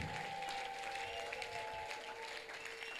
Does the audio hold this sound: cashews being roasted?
no